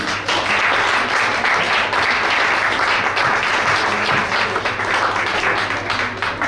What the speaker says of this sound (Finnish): Pitäisikö meidän taputtaa heille